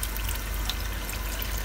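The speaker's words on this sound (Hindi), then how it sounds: "तो यहाँ पर हम पानी ऐड करते हैं, बिल्कुल एक कप लेंगे" Water streams steadily into a cooking pot for a chickpea, egg and potato curry, a continuous close pouring rush with no talk.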